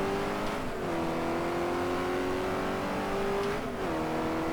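A race car engine in the racing game GT Legends drones steadily at high revs, its pitch dipping briefly twice during gear shifts, loud and continuous with no talk.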